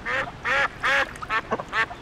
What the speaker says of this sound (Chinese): 这是肉鸭，专门用来吃的。